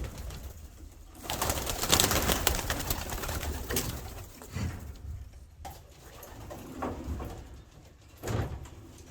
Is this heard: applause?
no